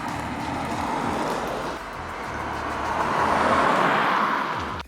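A Ford Focus Active on the road through corners, its tyre and engine noise forming a steady broadband drone heard from inside that swells slightly midway before fading at the end.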